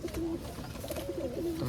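Pigeons coo softly in a few low, rolling calls over a steady background hiss.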